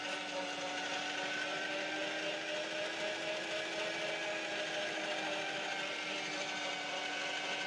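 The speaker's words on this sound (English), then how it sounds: "so we've got it all diced up into small enough portions to run through the mincer" An electric meat mincer runs steadily, grinding diced doner meat with a constant whirring motor hum and faint mechanical churning for the whole stretch, close by and alone.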